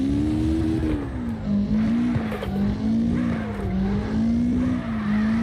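Sustained tire squeal from a car drifting in CarX Drift Racing, a steady wavering screech over engine drone, loud and continuous throughout with no talking.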